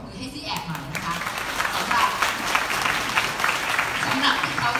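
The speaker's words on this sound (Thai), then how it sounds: "ขอปรบมือให้ซีแอปหน่อยนะคะ" Steady audience applause fills a presentation hall at a beauty and health innovation event, a dense, continuous wash of clapping from many hands, honoring the product C-App.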